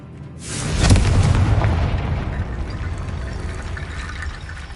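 A Confringo blasting spell detonating in a Harry Potter video game, one loud sudden boom that swells and then rumbles away into a long, fading roar, with no talking.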